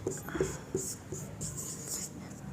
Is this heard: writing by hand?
yes